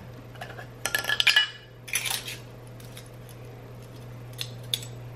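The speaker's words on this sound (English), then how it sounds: "I'm gonna grab some new teaspoons." Metal teaspoons clink and jangle as they are grabbed from a kitchen drawer during baking, making a quick cluster of bright chinks and then a few lighter taps that fade into a quiet room.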